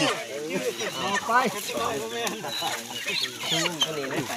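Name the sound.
chicken clucking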